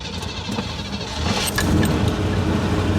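Chevy K10 pickup engine starting up after the clutch is pumped, a short crank and catch followed by a rougher, louder idle rumble building in the second half, close by with no talk.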